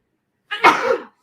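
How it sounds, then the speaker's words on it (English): A single sharp, close human sneeze bursts out after a moment of silence, noisy and breathy, lasting about half a second before cutting off to quiet. "I'm holding back a sneeze"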